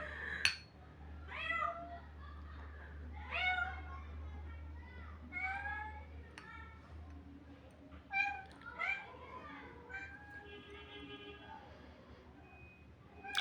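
A cat meows several times in short, rising calls, fairly close, over a steady low hum with faint background noise.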